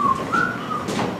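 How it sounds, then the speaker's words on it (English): A person whistles a short, clear, sliding tone in a few brief notes, close and moderately loud over faint background noise. "How about a whistle?"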